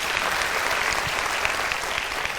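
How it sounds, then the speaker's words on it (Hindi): An audience applauds in a dense, steady burst of clapping that fills the whole moment, close and fairly loud, with no voices over it. "तालियां होनी चाहिए।"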